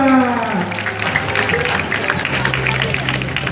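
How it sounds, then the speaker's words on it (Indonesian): Audience clapping and crowd noise at a martial arts attraction during an IPSI event opening in Semarang, a steady wash of applause under a loud voice speaking. "Iya, tepuk tangan."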